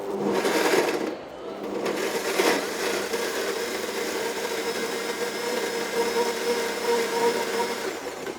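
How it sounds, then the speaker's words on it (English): A high-powered blender runs continuously while blending seeds with a little water, a steady loud whirring motor with a short dip near the start, heard close up. "You blend long enough for it to be smooth."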